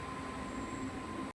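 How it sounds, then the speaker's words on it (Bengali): A local train on the Howrah to Amta line pulls into a station, a loud steady rumble and rail hum that cuts off abruptly after about a second. "আমাদের ট্রেন এসে পৌঁছালো ডানসি স্টেশন।"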